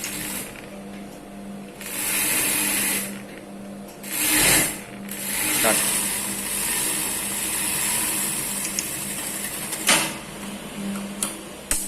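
A sewing machine stitches umbrella skirt panels cut from a saree, running in several short bursts of whirring separated by brief pauses and fabric handling, fairly quiet with no talk.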